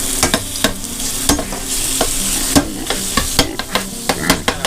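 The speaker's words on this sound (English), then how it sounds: "So now I'm going to bump up the heat to about medium-high. I'm going to throw in my ground pork." Ground pork frying in a hot pan at medium-high heat, a steady loud sizzle broken by sharp clacks and scrapes of a utensil stirring and breaking up the meat.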